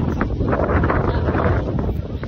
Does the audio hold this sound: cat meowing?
no